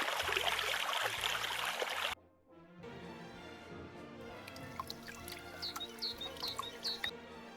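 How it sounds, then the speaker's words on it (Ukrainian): Broadband rushing sound of a spring stream flowing for about two seconds, then a softer background with faint chirping birds and occasional drips. "А це струмочки течуть."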